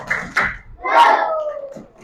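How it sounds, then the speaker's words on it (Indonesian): A school class joining in a rhythmic group clap cheer led by a teacher, a few short sharp claps blending with children's voices chanting along, close and brief. "tepuk good untuk kita semua"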